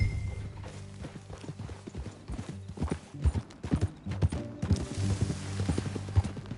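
Horse hooves clip-clop in a steady walking rhythm in the video game Red Dead Redemption 2, with occasional creaks of tack, fairly close and moderately quiet.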